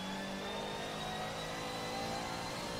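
A race car engine on a track drones steadily as the driver gets back on the throttle, a faint, continuous revving whine that rises slightly in pitch.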